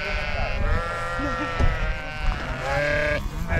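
Rhön sheep in a German upland pasture bleating repeatedly at close range, several wavering calls overlapping one another, while a person speaks softly among them.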